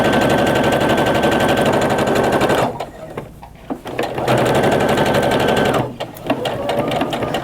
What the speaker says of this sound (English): I'm just going to zip through the rest of this seam and then chain piece